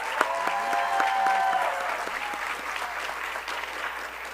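Audience applause at a university coronation ceremony for Mister and Miss Coppin State University and the royal court, a steady, dense wash of clapping with crowd cheers and a few high whoops, sustained throughout.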